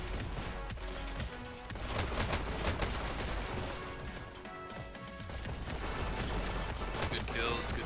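Rapid bursts of SMG and other gunfire crackle almost continuously through a Dash League video game esports match, loud and dense, with a commentator talking over the action.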